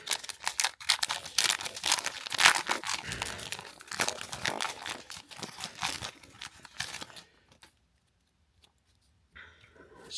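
Foil wrapper of a Sacred Legacy Bible-themed trading card game booster pack torn and crinkled open at close range, a run of sharp ripping and crackling bursts for several seconds before falling silent, with a brief rustle at the end.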